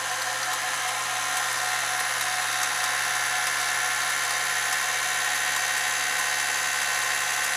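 An electric mixer whirs steadily through snickerdoodle cake batter, a constant close mechanical hum with no breaks or talking.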